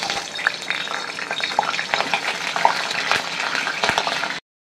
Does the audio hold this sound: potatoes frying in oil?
yes